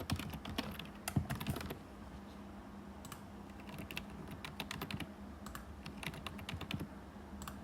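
Dummy login details being typed on a computer keyboard, a steady run of light, close key clicks with brief pauses, no voices.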